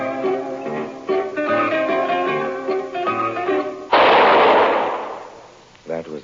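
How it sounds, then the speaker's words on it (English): A radio-drama gunshot sound effect, a single loud burst of noise cutting in after a stretch of zither-like music and fading over a couple of seconds, with a brief voice after it. "That was the shot that killed Harry Lime."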